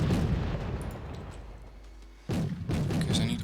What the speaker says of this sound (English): Bring in 4 more mortars.